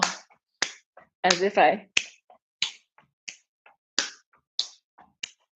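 Sharp hand claps repeating at a steady rhythm during a step-clap exercise, close and loud, with brief talk over one stretch.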